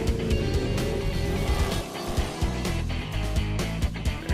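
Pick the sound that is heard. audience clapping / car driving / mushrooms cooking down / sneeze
car driving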